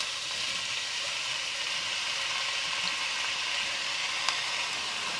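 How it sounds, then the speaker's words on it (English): Chopped onions frying in hot oil in a pan while making rajma masala gravy, a steady, even sizzle that holds throughout with no talking and one small pop near the end. "So have to fry the onions until they turn light brown in color"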